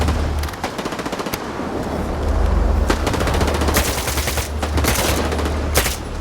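Rapid automatic weapon fire in the video game Stalker 2 rattles on loudly and almost without pause, with sharp individual shots cracking through a dense, continuous barrage.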